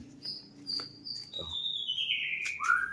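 A greater green leafbird (cucak ijo gembung) gives clear, loud whistled chirps close by, ending in long sliding notes over a low background murmur.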